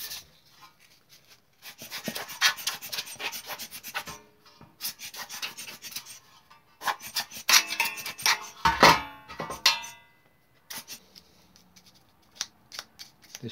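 Sandpaper rubs by hand between rivet heads on a metal locomotive part being prepared for paint, giving scratchy, gritty strokes in uneven bursts with quiet gaps, close up and without talk.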